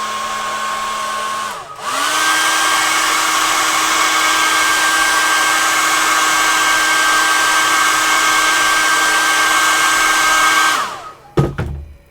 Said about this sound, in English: I'm going to take the hairdryer again.